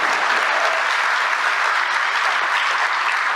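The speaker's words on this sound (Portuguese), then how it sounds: "Uma salva de palmas para a nossa ministra Margarete Menezes." Steady, dense applause from a large audience honoring the culture minister, continuous and loud throughout without speech.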